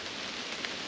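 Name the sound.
rain in the woods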